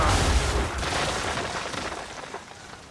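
Ship cannon fire in an Assassin's Creed 3 naval battle, a loud booming blast rolling into a dense rumble that fades over a few seconds, with no voices.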